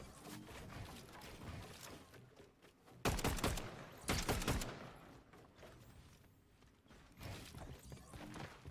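Sniper rifle shots in a Fortnite tournament match, two sharp loud cracks a second apart standing out above busy game sounds and background noise, with further muffled gunfire later.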